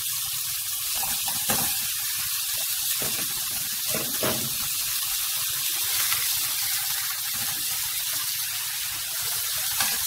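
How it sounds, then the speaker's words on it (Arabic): Chicken pieces sizzle in a pan during a light browning, a continuous close hiss with scattered small pops and a few soft scrapes. "انا بس يا دوبك هديها تحميره بسيطه"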